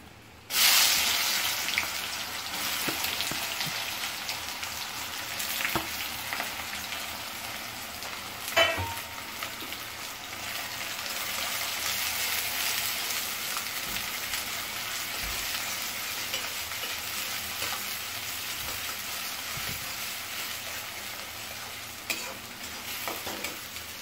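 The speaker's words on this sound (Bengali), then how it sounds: "দেখো পেঁয়াজটা ভাজা হচ্ছে এখন।" Onion sizzles in a pan of hot oil with cumin, bay leaf, cinnamon and cardamom, a steady close frying hiss with occasional stirring clatters across the whole stretch.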